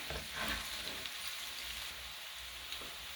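Ground beef and potatoes fry over medium heat in a pan, a faint, even hissing sizzle with light crackle throughout.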